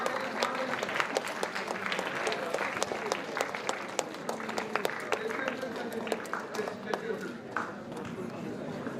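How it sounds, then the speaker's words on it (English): Audience members at an electrocardiogram workshop clap their hands in a continuous crackling patter, moderately distant and mixed with voices talking in the room. "Clap your hands, clap your hands."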